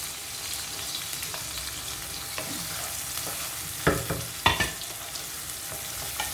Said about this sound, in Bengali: দেন আমি আমার পেঁয়াজটা অ্যাড করে নিব পেঁয়াজটা অ্যাড করে নিচ্ছি